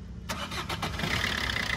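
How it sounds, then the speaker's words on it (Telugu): The diesel engine of a 2014 Maruti Suzuki Ertiga ZDI cranks briefly and catches, then settles into a steady, loud idle close by. "ఇప్పుడు ఇంజన్ కూడా స్టార్ట్ చేసి చూపిస్తాను"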